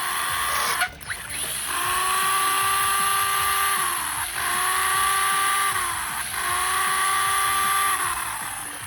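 A Big Bear II 1/12-scale brushless 4WD RC monster truck running, its electric motor whining loudly in three sustained high-pitched bursts with brief dips between, close by and without speech.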